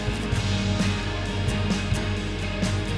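Isolated keyboard track from a rock song's stem breakdown, a steady, dense layer of sustained chords with soft rhythmic pulses, played alone at moderate volume.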